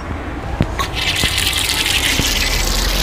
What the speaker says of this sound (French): Il y a un robinet pour faire le plein d'eau.